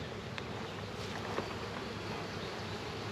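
Honey bees buzz around a beehive that has just been smoked before opening, a steady dense hum close by with no talking, holding even throughout.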